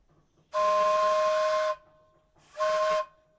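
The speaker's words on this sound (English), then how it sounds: "It carries a variety of whistles on it" A loud steam donkey engine whistle, on a wood-fired steam engine, blows one long blast, falls silent, then gives a second shorter blast, with a soft hiss between.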